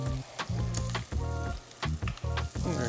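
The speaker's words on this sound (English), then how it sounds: "Okay, so we get our bacon flipped, a little stuck, that happens sometimes." Bacon fries in a pan, a loud continuous sizzle and crackle close up, broken by brief stirring or shifting scrapes, with no voices.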